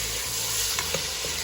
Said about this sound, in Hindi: चिकन का चॉप ही किया हुआ है बहुत बारीक, तो इसको ऐसे प्याज के साथ ही भून लूँगी